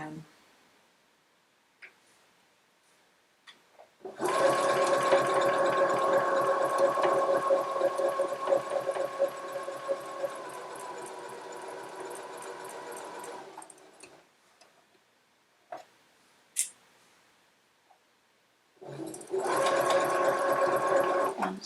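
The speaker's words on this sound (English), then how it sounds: "And sew off the end." A sewing machine stitching quilt pieces runs in two bursts, a long steady whirring run of rapid stitches, a pause with faint clicks, then starting again near the end.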